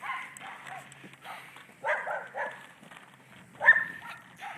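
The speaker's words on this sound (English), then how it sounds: "Forget the dogs." Dogs bark in a steady string of medium-loud yaps at some distance outdoors while someone goes riding, with one sharper bark standing out near the end over faint background noise.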